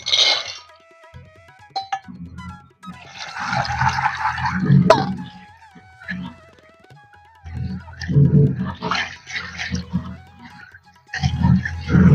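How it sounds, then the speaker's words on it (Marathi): Chickpeas being washed and swished in water, with repeated sloshing, swirling water bursts and a few clinks of the vessel, fairly loud and close, no talking. "आता हरभरा स्वच्छ धुवून घेऊ"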